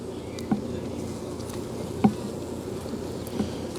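A steady, dense buzzing of many honeybees up close during a hive removal, a continuous low drone with a few soft knocks breaking through.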